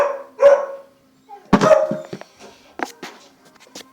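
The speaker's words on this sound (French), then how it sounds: "Super, ils ont gueulé les chiens." Dogs barking at home, a few loud close barks followed by shorter, fainter yips and whimpers in an otherwise quiet room.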